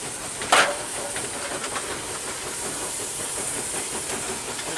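A steam locomotive hisses steam in a steady, loud rush with a brief sharper burst near the start, along with faint rhythmic rail clatter from the moving train.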